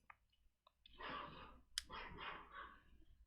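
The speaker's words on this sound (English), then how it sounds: "Sorry about my dogs." Dogs bark at someone outside a window, several loud yaps and a longer burst of barking, with brief clicks early on and no talk.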